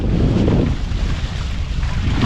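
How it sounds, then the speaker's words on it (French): Loud crosswind roaring across a sailboat under way, a steady close rush of wind buffeting the microphone with water and hull noise beneath. "c'est un vent de travers"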